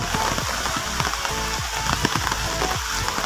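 Rain falling steadily outdoors during a trip to a barangay swimming pool in Bololo, Guinobatan, a dense continuous patter with scattered drop impacts, fairly close and without talk.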